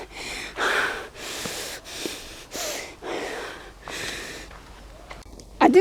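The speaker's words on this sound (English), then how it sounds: "I've got to slow my breathing down." Heavy, ragged breathing from a man panicking on a solo hike, a series of loud rasping inhales and exhales close to the mic, repeating in uneven bursts with no speech.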